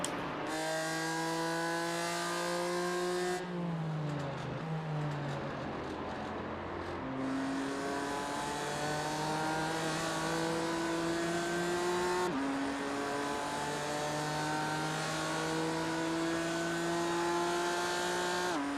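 Race cars roar around Watkins Glen in iRacing, with engines climbing through gears and shifting repeatedly, loud and close throughout, without talking.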